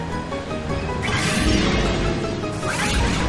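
A heavy attack impact in the Pokémon Battle Revolution video game lands as a loud crashing smash with a rushing whoosh, followed by a second swelling burst, all over continuous game noise.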